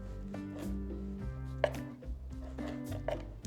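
Knife slicing through pan-seared flank steak for fajitas: several close, soft cutting strokes against a board, spaced irregularly over a low background hum, with a sharper tap midway.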